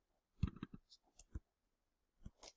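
A computer mouse clicks a handful of times in a quick irregular cluster, then once more after a pause, all soft and close with no other sound around it.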